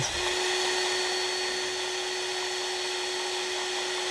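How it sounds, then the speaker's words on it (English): A DeWalt cordless grease gun runs with a steady, high, whining motor drone, close and continuous, with no talk over it. "this setup right here with the DeWalt grease gun"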